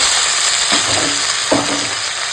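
Drumstick stalks, potatoes and tomatoes fry in hot oil previously used for frying fish, giving a steady close sizzle broken by two brief stirring bursts.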